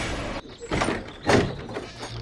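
A door is pulled open by a man named Vicky in a house, giving a couple of close wooden knocks and a scraping thump, followed by a brief low rumble.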